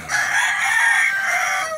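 Gamefowl crow loudly and close by, one long full crow that holds steady for nearly two seconds on a farm.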